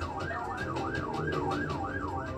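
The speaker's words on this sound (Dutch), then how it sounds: "Voet op het gaspedaal, zwaailichten en sirenes aan en gaan." A police car siren, just switched on, wails in a regular rapid up-and-down cycle over a low engine rumble, loud and continuous.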